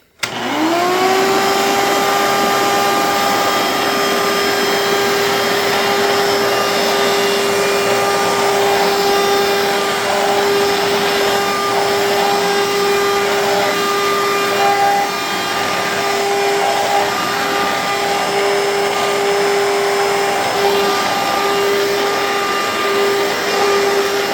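A Hoover Elite Supreme upright vacuum cleaner switches on and spins up, then runs at a steady, loud, continuous hum with a whining motor tone for the whole stretch, with no talking.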